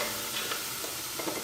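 Carrot fries in butter in a pot with a soft, continuous sizzle and a few faint stirring scrapes, quiet and close.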